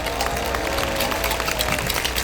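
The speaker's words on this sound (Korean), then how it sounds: "여러분 많은 박수 부탁드립니다." An audience at a Korean talk concert applauds, a dense and continuous wash of clapping filling the hall for a couple of seconds.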